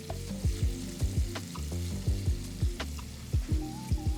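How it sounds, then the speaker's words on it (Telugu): Two medium finely chopped onions frying in hot oil in a kadai, with a constant sizzle under a steady run of rhythmic scraping stirs, loud and close. "నూనె వేడైన తర్వాత సన్నగా తరిగిన 2 మీడియం సైజ్ ఉల్లిపాయ ముక్కలు వేసి వేపాలి"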